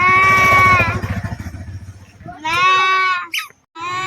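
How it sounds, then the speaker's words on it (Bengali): A goat bleating up close, one long wavering bleat followed by a second after a pause, with a motorcycle engine rumbling in the background and a short break in sound near the end. "এটা কিন্তু আমার ছাগল।"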